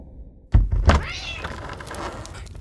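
Two heavy thumps are followed by a single drawn-out cat meow, close and clear, tapering off into quiet room noise.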